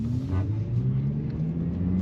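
Silence S04 Nanocar electric two-seat microcar driving at the Geneva Motor Show, a steady low motor whir and road rumble heard from onboard, continuous and fairly loud with a slight rising tone.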